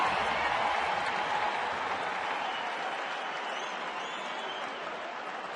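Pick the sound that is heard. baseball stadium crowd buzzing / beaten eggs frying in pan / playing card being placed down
baseball stadium crowd buzzing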